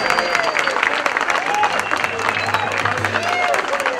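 A crowd at a government event in El Salvador applauds with dense, sustained clapping that stays constant throughout, while voices and cheers rise over it.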